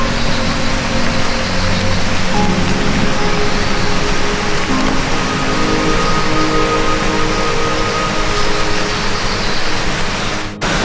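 A jungle waterfall in a Kalimantan forest, Indonesia, gives off a loud, continuous rushing roar of falling water that stays even throughout, with no voices.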